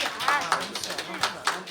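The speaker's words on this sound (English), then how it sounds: "Can I just have a quick round of applause for the wonderful, wonderful, beautiful show we saw tonight?" Scattered claps from an audience at a fashion show, a few sharp hand claps spaced irregularly over a low murmur of voices and talk.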